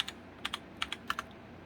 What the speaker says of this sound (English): So let's type in NVIDIA